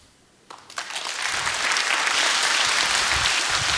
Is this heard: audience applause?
yes